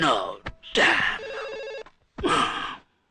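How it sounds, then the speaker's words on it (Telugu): A phone rings with a short electronic ring burst between bits of speech, with voices before and after. "ఫోన్ రింగ్ అవుతుందండి"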